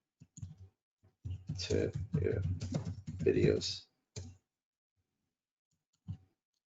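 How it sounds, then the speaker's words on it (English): Computer keyboard typing clicks sound close, with bursts of clacking between and under a man's speech, then a few isolated key taps near the end. "let me fix my typing here."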